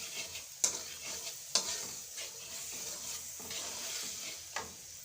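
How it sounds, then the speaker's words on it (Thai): Palo spices sizzle in a wok with dark soy sauce and broth as a spatula stirs them, producing sharp scraping strikes at irregular intervals over a constant close, hissing fry; no one speaks. "ผัดเครื่องพะโล้ให้หอมใส่ซีอิ๊วใส่น้ำซุปไป"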